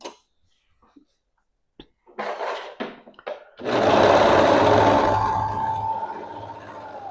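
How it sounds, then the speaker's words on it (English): A serger overlocks fabric edges with black thread, first a few short stitching bursts and clicks, then a long steady mechanical whir close by that slows toward the end. "Now I'm going to just make these edges nice and clean by serging them."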